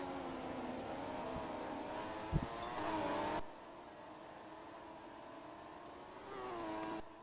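Aston Martin Formula-style race car on a flying qualifying lap at the Hungarian Grand Prix in a racing video game: a steady, layered engine whine with shifting pitch, a brief thump midway, then a sudden drop in level. No talk.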